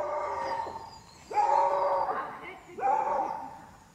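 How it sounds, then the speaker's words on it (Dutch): A dog barks three times in drawn-out, yelping bursts at mid distance, the first fainter than the two later ones, with no clear talk. "Je begint daar een hond te blaffen."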